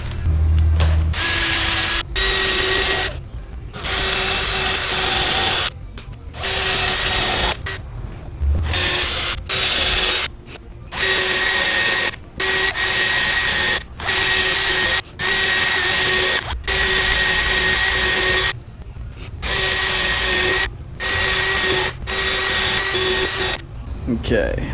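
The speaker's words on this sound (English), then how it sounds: "pilot holes are drilled" Power drill with a 3mm bit boring pilot holes for a subwoofer box, loud whirring bursts of a few seconds each, roughly a dozen, separated by brief silences, with no talk over them.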